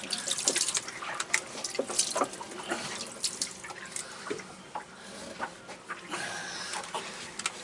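Water splashes and trickles irregularly out of a closed sailboat seacock, steady close pouring with scattered drips and clanks and no talk.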